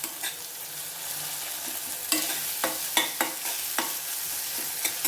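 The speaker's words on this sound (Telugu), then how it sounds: "ఈ టైంలో కొద్దిగా అల్లం తెలగటి పేస్ట్ వేసుకుందాము కొంచెంసేపు అట్లా వేపుకుందాం" Tomatoes and ginger-garlic paste sizzle in a pan for a vada curry while a spoon stirs them, making a steady frying hiss with repeated scraping clicks and knocks close by.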